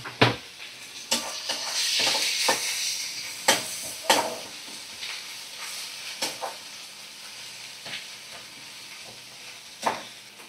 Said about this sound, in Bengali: এবার আমি এক চামচ আদা রসুন বাটা দিয়ে দিলাম।